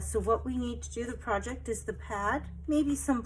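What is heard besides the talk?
None of the usual background noises is heard.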